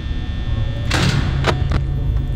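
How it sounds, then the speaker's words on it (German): Knocking in the video game Five Nights at Freddy's, a few dull, distinct knocks over a steady low electrical hum. "Jetzt höre ich ein Klopfen. Also irgendjemand bewegt sich jetzt."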